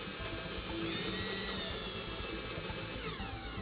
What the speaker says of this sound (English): when drilling into the frame, we want to make sure that we start off slow.